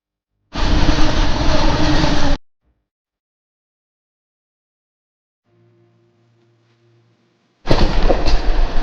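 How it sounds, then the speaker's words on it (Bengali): Two loud bursts of rumbling noise from the Howrah–Dehradun Upasana Express passenger train, near and steady, separated by a long quiet stretch with a faint low hum. "ট্রেনটা আমাদের এগাচ্ছে"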